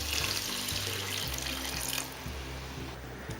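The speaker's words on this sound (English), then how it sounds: "I am going to add in the white peas and water" Water runs from a tap into a cooking pot of white peas, a steady loud splashing stream that eases slightly partway through and then continues.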